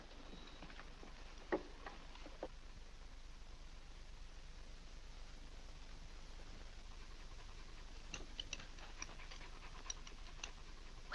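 A dog pants quietly indoors in a family home, a faint, rhythmic breathing heard over a soft background hiss, with no talking.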